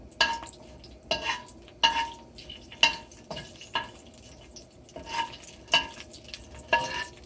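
Ingredients for Sichuan beef broth being stirred and fried in a pan, with a steady sizzle under repeated sharp scraping strokes of a utensil against the metal, roughly once a second, close and moderately loud.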